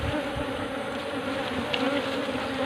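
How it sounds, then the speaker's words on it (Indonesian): A dense, continuous hum of many honey bees buzzing close by at a hive, worker bees queuing, steady and unbroken with no voices. "di belakang kita ini juga banyak banget lebah-lebah pekerjanya yang ngantri"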